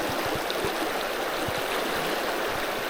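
A fast-flowing mountain stream rushes steadily and close by, a continuous broadband hiss and splash with faint low thumps, no voices over it.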